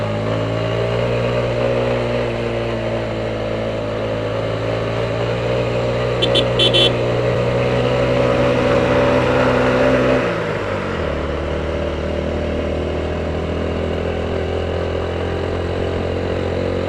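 A vehicle engine labors in first gear up a hill on the final stretch of road to Sajek, a steady loud drone that shifts pitch around the ten-second mark, with a brief clatter partway through.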